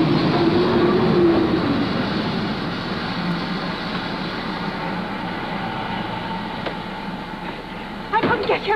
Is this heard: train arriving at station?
yes